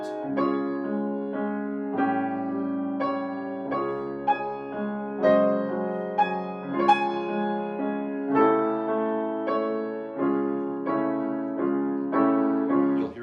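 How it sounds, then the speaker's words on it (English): A clarinet plays a flowing melodic line with quick notes over soft accompaniment, moving up and down in a lively phrase. "then the clarinet"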